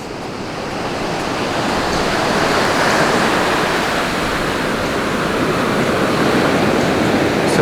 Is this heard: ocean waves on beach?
yes